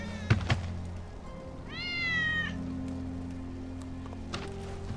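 A single drawn-out cat meow in the video game Final Fantasy 7 Remake rises clearly over low in-game ambience, with a couple of soft thuds before it and another near the end.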